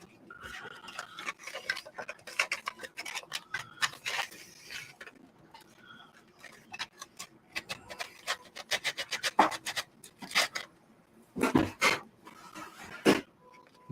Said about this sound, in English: We got to do a touch of sanding.